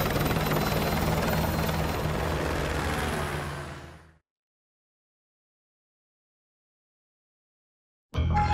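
Helicopter from the Call of Duty Modern Warfare 2 campaign, a loud steady rotor roar for about four seconds that fades into silence, then the sound abruptly returns near the end.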